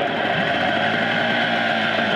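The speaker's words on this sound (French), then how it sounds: "Juste démarrage en direct. Le nouveau moteur d'annexe" New dinghy outboard motor running near Halifax, a loud, steady mid-pitched engine drone with a constant vibrating whir throughout, no voices.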